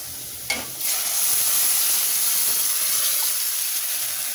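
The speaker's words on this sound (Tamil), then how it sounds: "இப்போ நம்ம அரைச்சி வச்சதை ஊற்றிடலாம்." Ground kolukattai paste hits a hot pan and bursts into a loud, steady sizzling hiss after a brief splash at the start, continuing close up with no talking.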